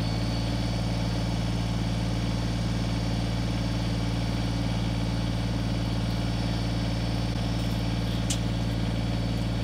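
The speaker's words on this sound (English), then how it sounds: "the little BX25D is just a good looking little subcompact tractor with a lot of power" A Kubota BX25D subcompact tractor engine runs steadily, a constant low hum and drone that holds unchanged from start to finish with no talk over it.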